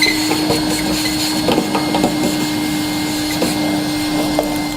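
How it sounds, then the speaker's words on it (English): Shop vacuum whirring steadily while cleaning up drilling debris from a 2-inch hole bored in a 2016 Chevrolet Silverado truck bed for a 5th wheel wiring harness adapter, a continuous close hum with faint knocks of debris. "I'm going to take a vacuum, kind of clean all this up."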